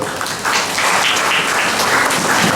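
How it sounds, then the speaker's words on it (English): Audience applause at a school Republic Day cultural program, steady dense clapping that swells after a brief quieter start and carries on without talk. "Let us give them a round of applause."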